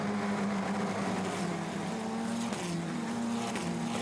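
A 2019 Formula Renault Eurocup race car at the Hungaroring sweeps wide through a curve, its steady high engine note droning loud and continuous, with gear shifts and a brief tire scrub under the constant roar.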